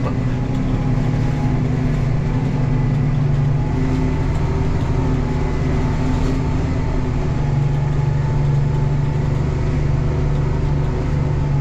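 A tractor preparing a rapeseed seedbed in 2024 drones steadily and loudly, its engine hum constant and close throughout with no voices.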